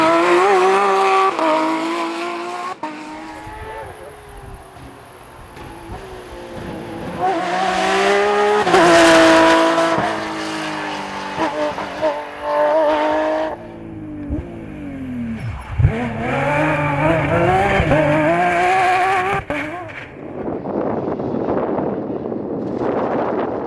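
A Porsche 997 rally car competing on a Tour European Rally special stage in Flanders, its engine revving hard and shifting through gears, with tire squeal and surging passes over about twenty seconds, loud and close.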